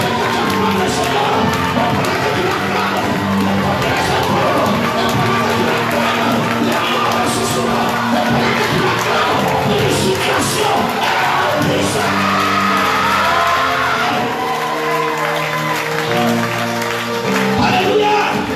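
A church congregation at a Sunday worship service cheers and acclaims the Lord, a dense sustained roar of voices, whoops and shouts over music, loud and continuous throughout.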